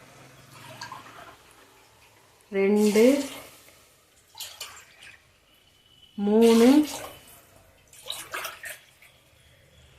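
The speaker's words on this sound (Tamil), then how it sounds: "4 உலக்கு தண்ணி ஊற்றிருக்கோம்" Water is poured from a cup into a pressure cooker holding rice and urad dal in two separate splashing pours, each with a rising gurgle as the vessel fills. A voice counts quietly between them, and a few faint clinks follow.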